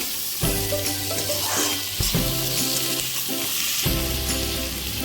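Tomato and two medium onions sautéing in a pan with salt, a steady loud sizzle broken by three bursts of stirring and scraping, with no voices.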